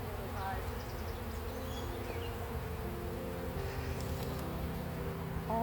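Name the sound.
honeybees buzzing around a hive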